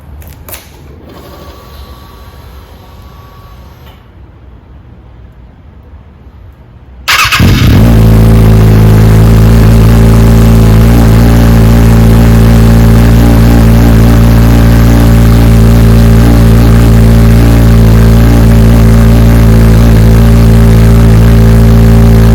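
A 2021 Kawasaki Ninja ZX-6R 636 with its exhaust can removed, quiet clicks followed by the engine cranking and starting, then a loud, raw, steady idle that continues to the end.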